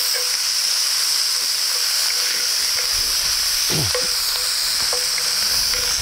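Bacon sizzles in a pan with andouille sausage, a steady close hiss carrying on for several seconds, broken by a brief scrape or clatter midway, with no talking.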